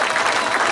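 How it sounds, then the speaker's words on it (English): Audience applause rises at an outdoor sheep show at the Great Dorset Steam Fair, a brief, dense burst of clapping from a nearby crowd with no speech over it. "let's have a big round of applause for Harry the Herdwick."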